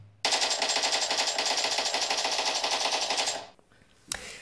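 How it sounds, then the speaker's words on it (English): AK-47 fire in a mobile shooting game played on an Ulefone Power 3S phone: one sustained rapid burst of automatic shots lasts about three seconds, then stops, followed by a brief sharp sound near the end. "Let's go with the AK-47."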